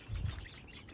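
Fifty-day-old farm chickens cluck softly in a short, faint burst of low murmuring clucks against a quiet background.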